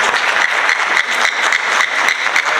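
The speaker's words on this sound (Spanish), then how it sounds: "Un aplauso" Dense, steady audience applause at a forum on drinking water held at a school, many hands clapping continuously and loudly throughout with no speech over it.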